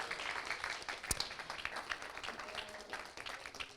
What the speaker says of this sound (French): Vous pouvez aller vous asseoir sous un tonnerre d'applaudissements